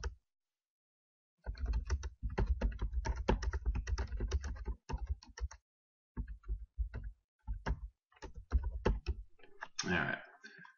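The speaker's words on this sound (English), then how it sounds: "All right, so we've typed in a couple of things there." Keys clatter on a computer keyboard in quiet, close bursts of rapid typing, broken by short pauses and ending with a few isolated taps.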